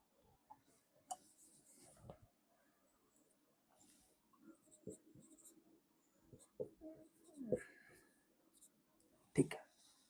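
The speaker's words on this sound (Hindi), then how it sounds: "मैं इस क्वेश्चन को दोबारा लिख लेता हूं।" Pen or marker strokes writing out a maths multiplication question, soft scratchy bursts scattered across the stretch, with a man's quiet speech intermittently over them.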